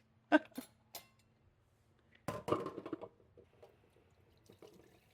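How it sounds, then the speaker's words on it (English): Water poured into a used meatloaf pan in a home kitchen, a short splashing burst near the start and a longer pouring rush in the middle, fading to faint trickles. "I always put water in my pan so it cleans easy."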